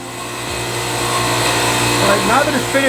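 A grinding stone resurfaces a 2001 Cummins diesel flywheel with a continuous loud mechanical whine and hum. Speech runs over it.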